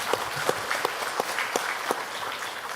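Members of a church congregation clap together during a Sunday worship service, a moderate wash of applause with sharper individual claps standing out at a steady pace, with faint talking beneath.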